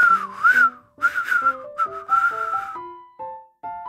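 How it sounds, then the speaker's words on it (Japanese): A character in the KonoFan character story game whistles a deliberate, showy tune, a clear close melodic whistle of short rising and falling notes in quick phrases with brief pauses between. "あのわざとらしい口笛。"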